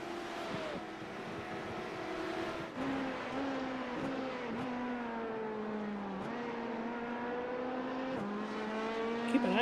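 Race cars at Daytona in a racing video game drone past with steady high-pitched engine tones that shift and dip as they pass, a continuous moderately loud roar without commentary.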